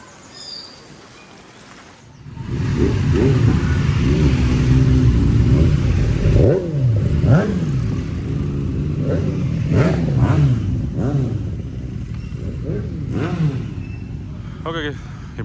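A Royal Enfield Himalayan 450 motorcycle starts moving off after a quiet moment, its engine rising and revving through several gear pulls as it rides away on a wet road, with a voice talking over it.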